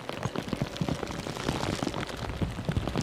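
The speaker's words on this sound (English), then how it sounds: "you'll hear the rain just belting down" Heavy rain pounds down at Edinburgh airport on a murky, windy Christmas Eve, a dense, steady roar of drops drumming on hard surfaces, loud and close with no pauses.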